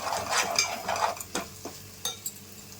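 Ginger garlic paste fries in oil on a low flame while a spoon stirs it, giving a close, soft sizzle with a few sharp scrapes and taps against the pan.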